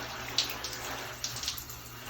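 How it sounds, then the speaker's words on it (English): Water sprayed directly over a formal dress laid flat, a steady soft hissing wash with a few brief louder spurts, close by and continuous with no talking. "just lay it flat and spray the water directly over."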